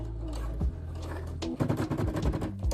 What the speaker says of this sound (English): And that's the sound of my sewing machine getting up.